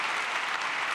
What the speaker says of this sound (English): Big round of applause for Andreas